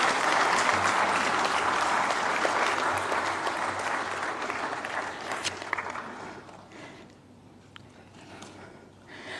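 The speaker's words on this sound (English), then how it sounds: "Please give a big round of applause" An audience at an event bursts into big applause, a dense roar of clapping that stays loud for about five seconds, then thins out and fades to a few scattered claps.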